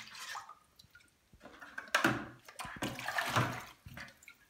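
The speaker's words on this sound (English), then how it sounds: "Now I fill up with water until the headspace displays." Water running into a wine topping bag held by a clip, uneven gurgling and splashing bursts with short pauses, fairly quiet and close.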